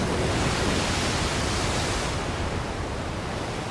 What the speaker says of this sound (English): Saul, all I hear is thrashing waves